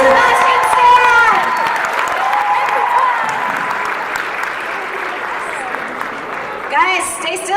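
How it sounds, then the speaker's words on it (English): Audience applause and cheering fill a celebrity panel for Paul Bettany and Sebastian Stan, steady clapping with whoops and voices mixed through, swelling again near the end. "Please give one more big round of applause for Paul Bettany and Sebastian Stan."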